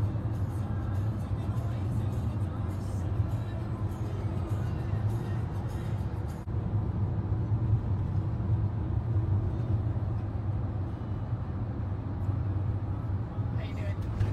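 Steady, low engine and road rumble from a car driving on the road in New Zealand, continuous and moderately loud throughout, with a brief dip partway before the same drone resumes.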